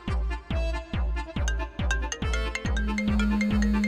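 A mobile phone ringtone for an incoming call plays a bright, repeating melodic pattern of quick notes in a steady rhythm, loud and close, with no voices over it.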